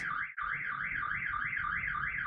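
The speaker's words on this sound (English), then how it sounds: "Sorry about the car alarm." A car alarm wails in a steady rising-and-falling siren cycle, fairly faint and distant, repeating evenly after a brief cutoff at the start.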